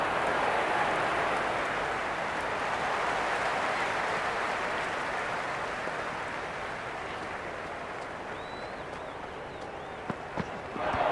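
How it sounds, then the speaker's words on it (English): A stadium crowd in the Cricket 26 video game, a Brisbane Heat versus Melbourne Stars match, applauds and cheers as a steady, dense roar that fades slightly toward the end, with no talk over it. "There's an almost tangible fervour throughout the crowd at the moment."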